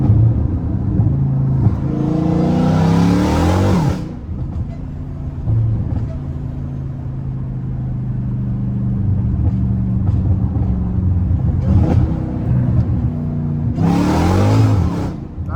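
A catless, straight-piped Dodge Hellcat Redeye engine revs hard in loud bursts, with a deep rumbling idle between the rises and people talking over it.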